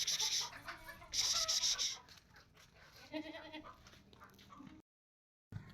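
Nagra Beetal goat at a livestock sale, bleating in two loud, harsh calls close by, followed by quieter murmuring and softer animal noises before a short gap of silence.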